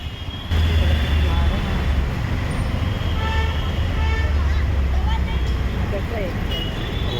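Road traffic from inside a moving auto rickshaw on the way to a shopping mall in Ghatkopar West: a constant engine and road roar with scattered horn toots, while people talk over it.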